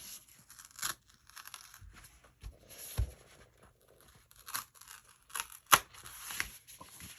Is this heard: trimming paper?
yes